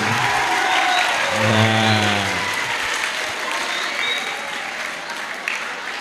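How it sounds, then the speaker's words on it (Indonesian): An audience applauds at a school talk show for Isra Miraj at SMPN 1 Magetan, with steady, dense clapping filling all six seconds and a voice briefly audible near the start. "Tepuk tangan untuk kita semua SMPN Negeri 1 Magetan."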